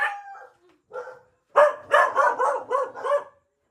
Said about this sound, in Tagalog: Ang dami mong aso ah.